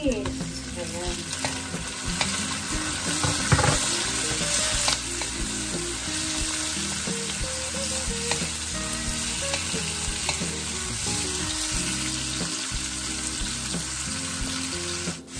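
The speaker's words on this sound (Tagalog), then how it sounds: "Ayan, igisang maigi." Onion and other ingredients sauté in a pan for tawsi na bangus, milkfish with black beans, giving a steady loud sizzle and frying crackle with repeated stirring scrapes throughout.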